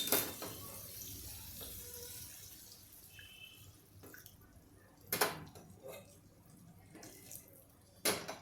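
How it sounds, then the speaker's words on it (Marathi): Water poured into a pan while making Jain shahi veg pulao, a faint running splash with a few sharper bursts near the middle and end, no talking. "आता मी पाणी घालतो."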